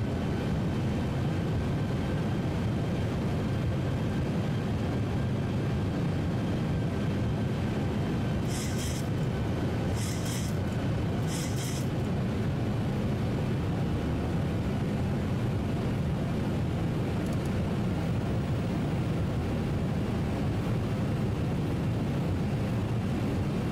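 A Boeing 737-800 comes in to land in the X-Plane 11 flight simulator, with a steady, loud broadband roar of engine and wind and a few brief beeps partway through.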